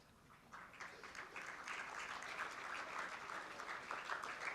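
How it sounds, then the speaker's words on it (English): Audience at a Sindhi High School ceremony in Hebbal applauds to honour staff, a moderately distant, steady patter of many hands clapping that swells after a quiet start and continues evenly. "Let's have a huge round of applause appreciating their unwavering efforts."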